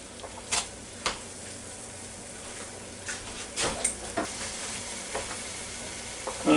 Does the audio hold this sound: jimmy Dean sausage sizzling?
yes